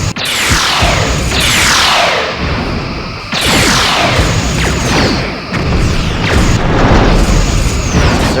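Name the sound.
torpedoes firing and hitting in Star Trek: Bridge Commander video game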